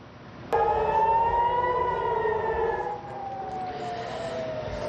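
Air raid sirens sounding in Israel, a single rising wail that begins abruptly, holds, then slowly falls in pitch as a second tone carries on.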